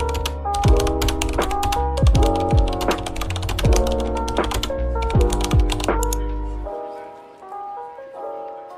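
Computer keyboard typing into chat in Roblox, a quick string of close, crisp key clicks layered over steady background music, fading to quiet at the end.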